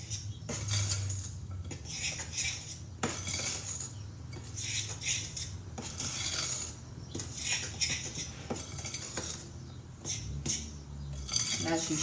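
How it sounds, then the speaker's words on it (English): A cold knife scrapes and clinks against a bowl as scone dough is mixed. The rapid, uneven scraping and tapping strokes sound close by and repeat for the whole stretch. "we're just going to take a simple cold knife and mix that mixture together."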